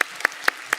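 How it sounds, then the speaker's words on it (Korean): Congregation clapping at a church Wednesday worship service: four sharp, evenly spaced claps, close and fairly loud, with nothing else between them. "박수하겠습니다."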